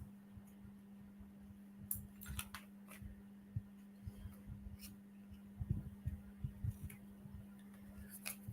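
Scissors chopping long fabric scraps, a string of quiet, irregular snips and crisp clicks close by over a steady low background hum.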